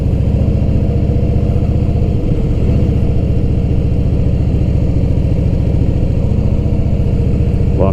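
A motorcycle riding through a residential neighborhood, with a steady loud engine rumble throughout at a fairly constant pace.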